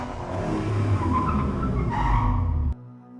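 A car drives by in a sound-effect style pass, a loud, rushing engine roar with tire noise that swells and then cuts off abruptly, leaving a faint low hum, with no talking.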